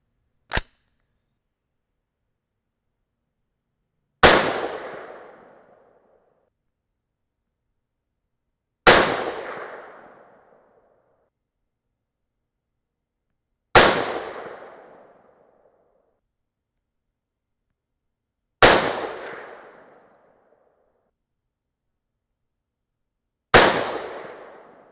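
.223 Rem rifle firing 77gr Berger OTM bullets loaded with N540 powder, five loud, sharp shots evenly spaced about five seconds apart, each followed by a brief decaying echo, with a faint click at the start.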